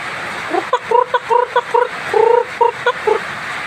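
Native chickens cluck in a short run of quick, close, distinct calls, some doubled, over a quiet outdoor background.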